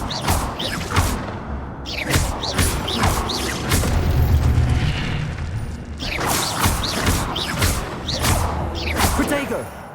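Incendio fire spell cast in Hogwarts Legacy, with repeated whooshing bursts and booming impacts amid combat sounds, loud and rhythmic, while a voice talks over them.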